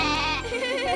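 A cartoon goat bleats in one loud, wavering, close bleat that fills the short moment.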